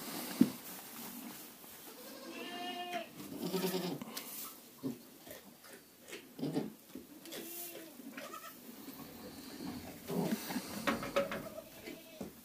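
A goat giving birth on a farm bleats repeatedly in strained, wavering cries, several loud calls spread across the stretch with quieter breathing and rustling between, and a person speaks softly in places.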